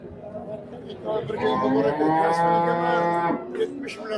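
A cow lets out a long, loud moo at a livestock market in Karshi, with people chattering nearby before and after.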